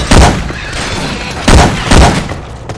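Syphon Filter weapon sound effects replacing the guns in Left 4 Dead 2, with three loud, close bursts of gunfire separated by short pauses over a steady background rumble.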